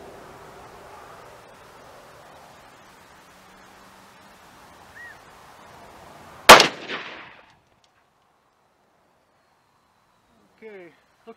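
A single sharp rifle shot from a Savage Model 10 FCP-K in .308 Winchester cracks out at a range, loud and close, with a brief echoing tail, then near silence and faint clicks.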